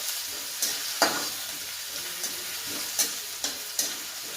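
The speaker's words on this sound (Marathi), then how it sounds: "यानंतर हा धुतलेला बटाटा चिरलेला आपण तो पण परतून घ्यायचा. छान असं हलवून घ्यायचं." Chopped potatoes sauté in a pan over a steady sizzle, with spatula scrapes and taps recurring every half second to second, close and clear with no talking.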